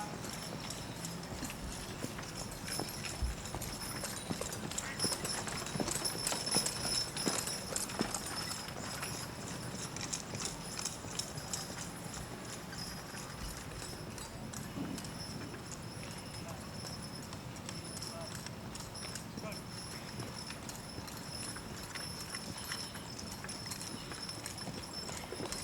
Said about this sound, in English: Cross the diagonal at the trot.